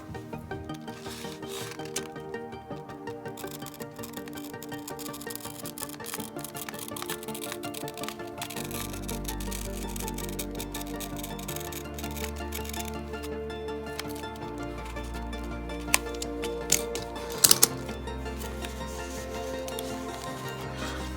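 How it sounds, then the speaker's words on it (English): Quiet scraping and rubbing of an X-Acto knife working through a plastic MiG-29 model kit part, with soft repeated strokes and a couple of small clicks close by. "It's much easier to use an X-Acto knife."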